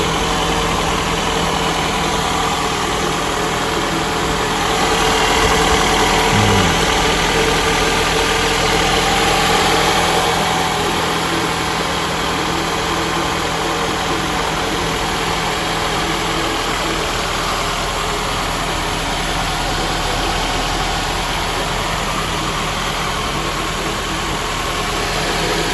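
A 2000 Honda Accord engine idles steadily just after start-up, a continuous mid-low hum with faint vibration, close and even throughout with no talking.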